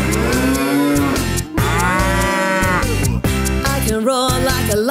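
A voice imitates a cow's moo in a children's farm-animal song, with several drawn-out sung moos carried over a steady, loud musical backing.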